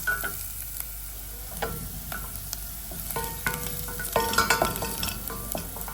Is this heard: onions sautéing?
yes